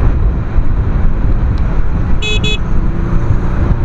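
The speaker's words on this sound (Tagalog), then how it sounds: "At malakas din ang busina." A short double honk of a 125cc motorcycle horn, two quick beeps over steady loud engine and wind rumble.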